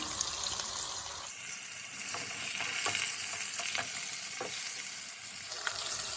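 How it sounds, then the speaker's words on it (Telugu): Chanduva fish frying in a pan over a medium flame gives a steady, close sizzling hiss, with a few soft crackles and pops scattered through it and no voices. "మీడియం ఫ్లేమ్లో మనం కుక్ చేసుకుందాం. మేము కొంచెం ఫ్రై చేసుకుందాం."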